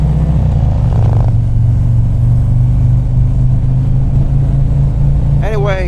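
Harley-Davidson Street Glide engine on an evening ride, a steady loud low rumble throughout with wind noise, someone talking briefly over it near the start and again near the end.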